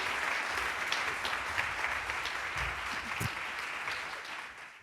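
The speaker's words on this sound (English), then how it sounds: "A round of applause for the panelists." An audience at a Harvard Radcliffe Institute panel event applauds the panelists as they come to the stage, a steady wash of clapping that fades slightly toward the end, with no talk over it.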